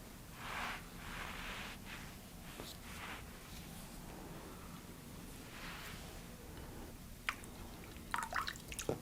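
Water dripping and trickling during a calm ASMR cleansing ritual, soft irregular splashes with a few quiet pauses, then a cluster of sharper close drips near the end.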